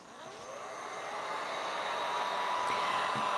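A hair dryer blows steadily up close, drying paint on an upcycled tin can craft, a continuous whooshing hum that builds slightly in loudness and runs alone without talk.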